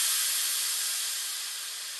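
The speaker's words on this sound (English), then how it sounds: "this really nice crash slash impact sound" White noise crash impact sound in a digicore-style beat: a bright, loud burst of hiss that starts at full level and slowly decays over two seconds, heard alone.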